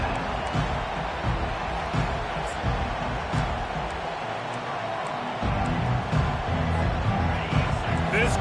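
Stadium crowd in the College Football 25 video game, a steady dense roar of many voices that swells and dips slightly, continuous under the action.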